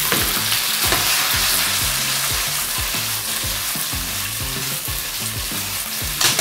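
Scored, briefly blanched squid stir-fries in a hot pan, sizzling loudly and continuously while a utensil tosses and scrapes in rhythmic strokes, with no talking.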